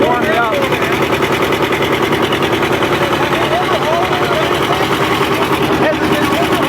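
A John Deere R tractor engine labours under load on a prony brake dyno at Rollag, pounding out a loud, rapid, even exhaust beat throughout while people talk over it.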